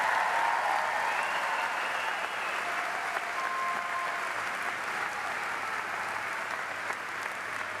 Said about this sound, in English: let's give our graduates a round of applause for that